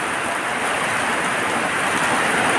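Heavy rain pours during a thunderstorm on the coast at Tabaco, Albay, making a loud, dense, steady hiss that fills the clip, close and continuous, with no talk.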